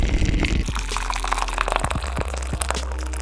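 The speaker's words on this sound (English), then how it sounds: "here you can hear the crisp audio of the water being poured" Water pours and splashes into a vessel, captured up close and crisp through a Rode microphone, a steady liquid stream with a few sharp drips and clinks near the end, no voices.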